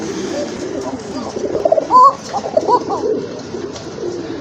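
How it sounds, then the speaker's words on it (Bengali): A koka pigeon coos in a few short, close rounds over a steady low background murmur, with brief rising calls standing out near the middle. "এটা কিন্তু অনেক ভালো ডাকে, যার স্যাম্পল কিন্তু আপনারা একটু আগে দেখতেই পেলেন।"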